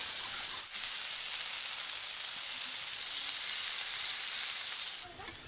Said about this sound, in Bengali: দেখুন আমি তখন থেকে উল্টে পাল্টে ভেজে নিচ্ছি